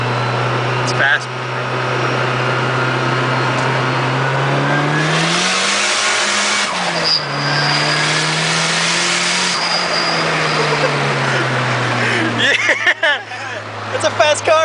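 A turbo Nissan 240SX with a fully built KA engine idles and revs, its pitch rising and falling through several throttle blips, loud and close, with crowd chatter around it.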